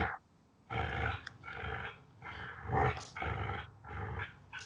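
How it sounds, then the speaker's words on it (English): A dog growls in a series of close, rumbling bursts with short gaps between them, each throaty rasp rising and fading, with no talking. "Can you hear growling?"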